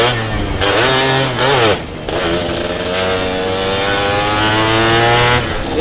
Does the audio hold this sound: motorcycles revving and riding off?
yes